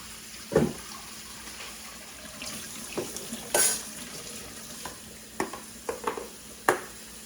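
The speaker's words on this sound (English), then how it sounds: "we're gonna rinse it under the water" Running tap water splashes faintly as a pozole ingredient is rinsed and tossed in a kitchen, with a steady background hiss broken by several short clinks and splashes.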